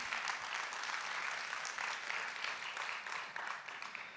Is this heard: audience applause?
yes